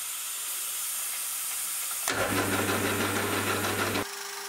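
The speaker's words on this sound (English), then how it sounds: "I'll now set up the spray coolant and turn the taper." A lathe hum is joined abruptly by a loud hissing coolant spray and steady motor whine for two seconds while turning a taper, then cuts back to a quieter hum.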